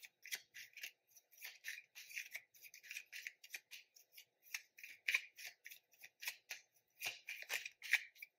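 Tarot cards are shuffled and slid across a surface in quick, crisp riffles and soft snaps, close and quiet, forming an irregular run of short bursts with no talking.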